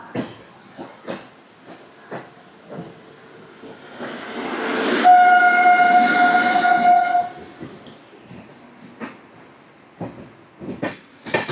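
Kanyakumari Superfast Express running into Chennai Egmore station, rhythmic wheel clacks around a swelling hiss and a sustained horn blast midway, then clacks again fading out.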